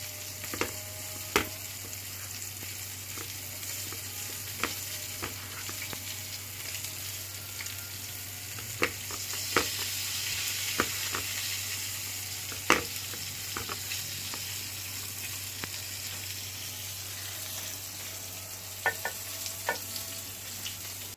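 Homemade sushi rolls fry in hot oil in a home kitchen, giving a steady close sizzle with occasional sharp crackles and pops for about twenty seconds, with no talking.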